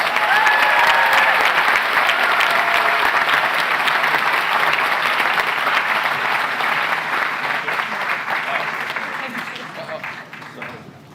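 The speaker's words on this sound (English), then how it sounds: "Let's give them all one more big round of applause." A large crowd at a medical school commencement ceremony applauds in a full, continuous roar of clapping that slowly tapers and dies away toward the end.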